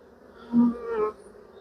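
Honey bees buzzing at an opened hive during a queen check, a brief close hum that swells twice over a low background drone.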